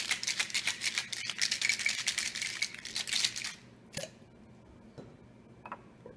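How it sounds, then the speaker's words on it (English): Ice rattles hard in a shaker as a caipirinha cocktail is shaken vigorously in a fast, even rhythm for several seconds before stopping, followed by a few faint clinks. "Give it a real good shake."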